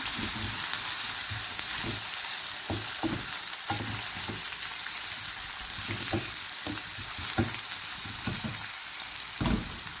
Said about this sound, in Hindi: प्याज को हम ब्राउन कर लेते हैं